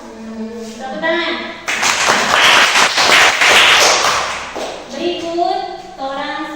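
A classroom of students breaks into loud, close applause that lasts a few seconds, with a voice speaking before and after the clapping.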